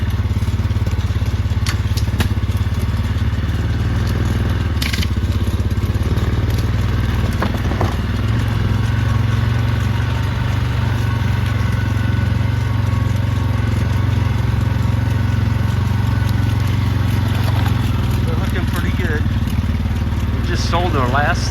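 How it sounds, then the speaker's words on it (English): A four-wheeler engine drones steadily as it pushes through brushy forest where a bull herd grazes. The motor hum stays loud and constant throughout, with occasional snaps and rustles of brush over it. "Hard to get a four-wheeler through here."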